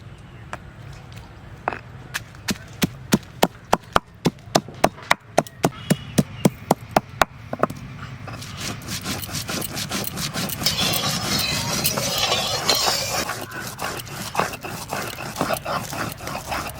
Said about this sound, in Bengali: এবার এর সঙ্গে শুকনো লঙ্কাটাও বেটে নেব শুকনো লঙ্কা